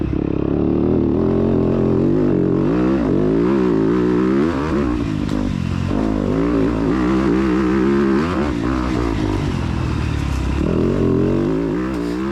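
Dirt bike ridden hard along a dusty off-road cross-country race track, its engine loud and close, revving up and down in rapid surges with rattling clatter throughout, no talk.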